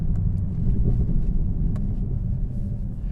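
A Mercedes C63 AMG Black Series engine downshifting, a loud, deep, close rumble that churns steadily with slight swells and a few faint clicks on top, no voices.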